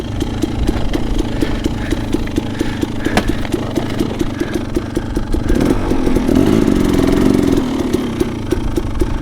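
An enduro dirt bike engine idles steadily on a mountain hillside during a hard enduro, a close, continuous rough putter that swells louder for a few seconds near the end.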